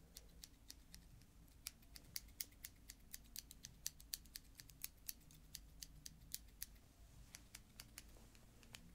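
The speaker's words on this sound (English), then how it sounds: "Small scissors make wonderful, delicate sounds, which really do help trigger ASMR." Small scissors snip steadily in a quick, crisp rhythm of light clicks, close and delicate, with no voices.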